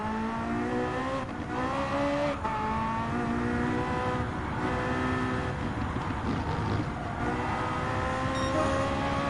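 A race car in Gran Turismo 7 drones at high revs with its engine pitch sliding down and back up through braking and downshifts, steady and close with no talk.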